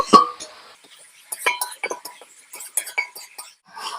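A small spoon clinks sharply against a bowl while turmeric and cumin powder are mixed, one bright strike at the start and then scattered, quieter taps and scrapes at close range.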